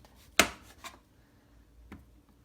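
A knife chops zucchini halves on a cutting board: one sharp, loud chop, a softer second cut a moment later, then a faint third tap after a pause, each clean and close with quiet between.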